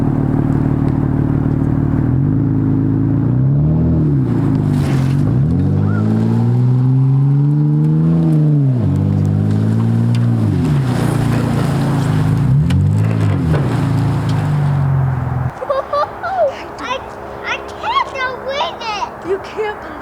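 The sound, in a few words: old car engine running while pushing a 1960 Ford F100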